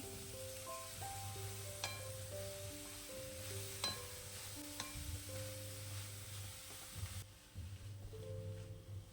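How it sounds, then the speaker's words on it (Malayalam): Cabbage thoran with turmeric powder being stirred in a hot pan, a steady close sizzle and fry with scraping and occasional clinks of the spoon against the metal, no talking. "ഇനി നല്ലവണ്ണം ഒന്ന് മിക്സ് ചെയ്തെടുക്കുക"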